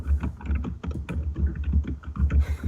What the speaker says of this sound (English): And the pounding of the keys.